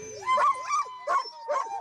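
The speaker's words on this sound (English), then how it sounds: "Jenny Roddewig arrives with her dogs" Sled dogs in snowy Montana yip and bark in four quick, pitched bursts, close and clear, as a team is brought out for training before a long-distance race.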